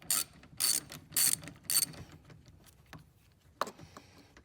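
A ratchet wrench clicks in four quick bursts, close and crisp, as it backs out a loose battery hold-down bolt on a Ford Escape, followed by softer metallic handling sounds.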